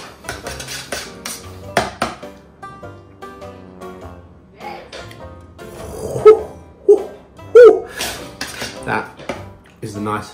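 Garlic yogurt dip with lemon juice, ground cumin, salt and pepper being stirred in a dish, with clinking scrapes of a utensil against the bowl and a few sharper knocks in between.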